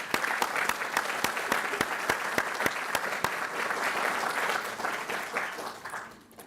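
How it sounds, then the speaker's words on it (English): Warm applause from an audience at the opening ceremony of a scientific conference, dense steady clapping with a few sharp individual claps standing out, holding for several seconds before fading at the end. "warm, cordial applause"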